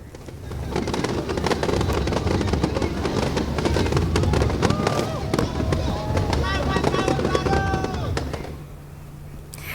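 New Year's Eve fireworks crackle and pop continuously amid crowd noise and a narrator speaking at Bundaran HI, Jakarta, with whistling bursts rising near the end before fading.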